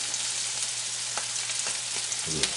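Kale and garlic sauté in a hot pan with a steady, close sizzle, broken by a few soft stirring scrapes and clicks near the end; no talking.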